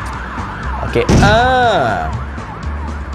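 An ambulance siren wails in the Stumble Guys video game, a loud rising and falling electronic tone over game noise, with someone talking briefly before it.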